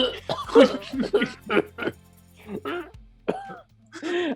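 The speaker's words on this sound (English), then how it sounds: "I like always have to clear my throat" A person clears their throat a few times between short vocal sounds, close and fairly loud, with brief pauses between the bursts.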